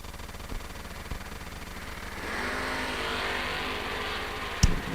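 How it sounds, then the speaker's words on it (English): Drag racing at a vintage event with a second-generation Camaro and a blue Nova: a steady distant engine drone swells as cars run, with a brief sharp peak near the end and no voices. "Skinny Kenny Underwood, dialed 610 in the second gen Camaro, will give chase to Briggs Michael"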